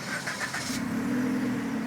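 A Suzuki Swift Sport with a Greddy aftermarket exhaust and muffler runs near the microphone, giving a steady, deep engine drone throughout with no noticeable revving.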